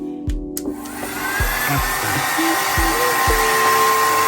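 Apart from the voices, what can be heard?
hair dryer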